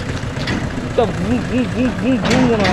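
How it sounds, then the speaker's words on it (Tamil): A Mahindra Yuvo Tech Plus 585 4WD tractor engine, down on power, idles steadily at close range, with a wavering tone rising and falling in repeated swells over the low rumble. "அதில் இன்ஜின் சத்து தான் குறைஞ்சி போச்சு"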